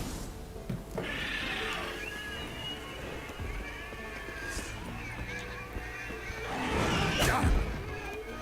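Roach, a horse in The Witcher 3, gives two loud whinnying neighs, one near the start and another toward the end, with swishing game sounds and muffled background voices between.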